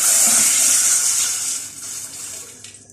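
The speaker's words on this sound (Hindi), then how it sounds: "ये सारी चिकन स्टॉक इसमें डाल देंगे।" Chicken stock is poured into a pan with garlic, a steady splashing stream of liquid that gradually thins and trails off near the end, close and alone without voices.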